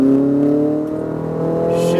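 A car pulls hard under throttle on a racetrack at Speed Vegas, its engine note rising and sustained, loud and close from inside the cabin, with no voices.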